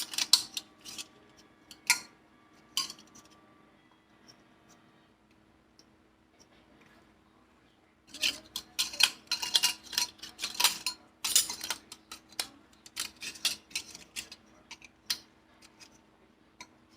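Metal canning jar lids and bands clink and tick in scattered taps, a few at first, then after a quiet stretch a busier run of close clatter, with no talking.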